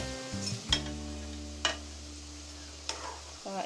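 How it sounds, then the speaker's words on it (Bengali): Crab and prawns being stirred slowly in a pan, a few separate scraping strokes spaced apart over a steady low hum, close and fairly quiet. "এখন আমি সব কিছু আস্তে আস্তে নেড়ে দিচ্ছি"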